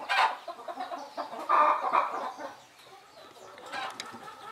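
Chickens cluck and chatter at a farmyard on a small rural dairy smallholding, several birds calling in overlapping bursts at moderate distance, with louder clusters of clucks near the start and middle before tapering off.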